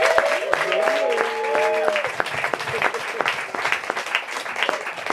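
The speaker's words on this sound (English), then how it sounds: "Let's give one more hand for Alissa." A book-event audience applauds the novelist Alissa Lee at a launch of her novel, a dense, steady wash of many hands clapping close and loud, with a few faint sustained tones early on.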